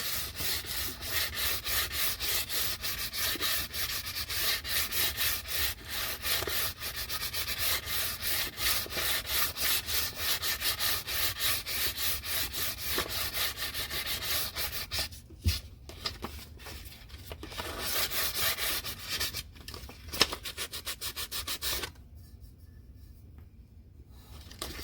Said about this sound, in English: take my 400 grit sandpaper, and I'm going to give it a light sand